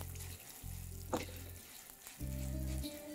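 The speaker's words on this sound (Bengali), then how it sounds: "তারপর এটাকে ভালো করে একবার ভেজে নিন।" Fenugreek seeds with pigeon pea and split chickpea lentils frying in hot oil for bisi bele bhaat, a steady close sizzle with a couple of brief clinks and stirring scrapes partway through.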